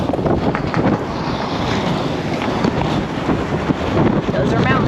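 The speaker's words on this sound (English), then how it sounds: "hopefully these waves will die down" Heavy wind and big ocean waves around a sailing boat at sea off the coast of Yemen, a loud, close roar of wind buffeting the microphone over rushing, crashing water, continuous throughout.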